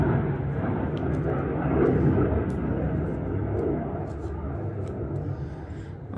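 Airplanes pass overhead in the open air, a steady broadband roar that swells and fades over several seconds, with faint speech-like activity in the background.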